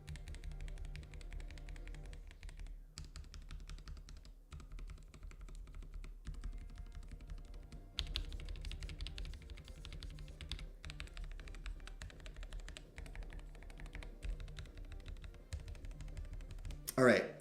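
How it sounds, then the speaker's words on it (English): Individual keys tapped one at a time on a mechanical keyboard with a knob, giving close, crisp clicks in an irregular rhythm with short pauses between presses. "I'm gonna do a little thing where I just tap some of the keys"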